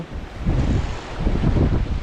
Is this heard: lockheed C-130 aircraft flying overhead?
no